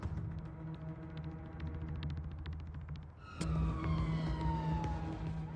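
An ambulance siren on blue lights wails loudly and close, its pitch sweeping with a sharp change in tone midway, over steady road and engine noise.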